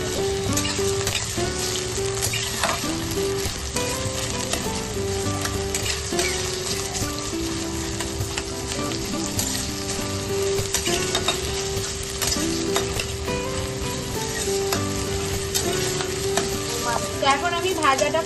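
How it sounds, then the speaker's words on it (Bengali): Chopped onions fry in hot oil for a continuous, dense, close-up sizzle, with steady stirring and scraping in the pan throughout. "পেঁয়াজটা ভালো করে নেড়ে নেব"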